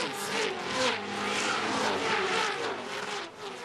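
Touring Car Masters race cars at Symmons Plains roar past in a dense, continuous pack, engines droning loudly with shifting pitch as they race toward the first corner, with no talk.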